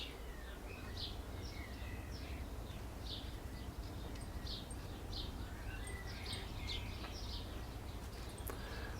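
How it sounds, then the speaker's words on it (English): Garden birds sing and chirp softly in the distance as a series of short, repeated high calls over a low background rumble, with no talking. "Should be able to hear the birds maybe from this mic."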